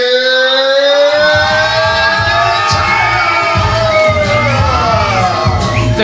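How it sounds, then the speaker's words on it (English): A crowd cheering and shouting before an MMA fight, with a loud rising siren-like tone riding over the steady roar of voices and bursts of noise. "The crowd seems to be warming up for this fight."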